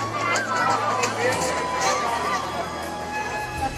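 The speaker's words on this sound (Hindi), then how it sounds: "बहुत भीड़ लगी जन" Dense crowd chatter at the Radha Rani temple in Barsana, a steady hubbub of many overlapping voices close around the listener, with no clear single voice standing out.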